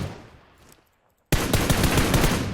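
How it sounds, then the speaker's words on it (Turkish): Automatic gunfire in the battle royale game PUBG Mobile, a sudden loud burst of rapid shots that breaks a near-silent moment and rattles on steadily for over a second, with no talking. "başka sıkıyor bana bak gene sıkıyor"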